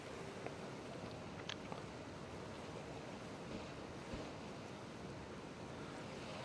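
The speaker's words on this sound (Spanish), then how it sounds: "podemos escuchar aquí el ruido del agua" Ocean water in the Sea of Thieves video game makes a steady, faint wash of surf and wind-like noise. It rolls on continuously with no talk over it.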